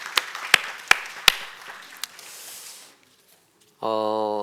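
A few scattered, separate claps ring out in a church sanctuary during a Sunday service as the congregation welcomes visitors. A brief patter follows, then a pause before a tone begins at the end.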